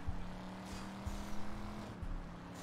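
A car driven in the video game Driver: Parallel Lines hums along with a low, steady engine drone and faint periodic thumps, quiet and even throughout, with no talk.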